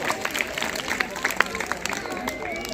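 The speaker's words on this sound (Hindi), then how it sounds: "इसके लिए आप सभी तालियों से इनका स्वागत कीजिए" A crowd applauds newly elected sarpanch and panch members, many of them women, at a swearing-in gathering in Khandela, scattered claps under a murmur of voices and ongoing speech.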